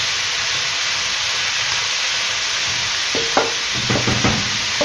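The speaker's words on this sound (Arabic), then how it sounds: "وقت لي الخضر تاعنا راهي تتقلى" Vegetables frying in a pan, a steady loud sizzle and hiss throughout, with a few brief clinks of utensils near the end.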